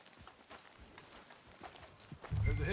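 Horse hooves clip-clop at a steady walking pace in the video game Red Dead Redemption 2, soft and close, ending in a louder low thump.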